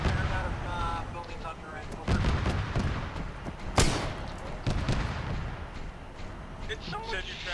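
Gunfire and heavy artillery-like blasts in a military shooter game, with shots from a teammate's friendly fire, forming a continuous dense barrage with sharp bursts near the middle, under game noise with voices present.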